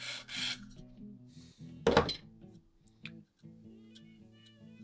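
Very dull Spyderco Tenacious knife blade drawn across a KME sharpening system stone, quiet rasping strokes with a louder scrape in the middle over a low steady hum, no speech.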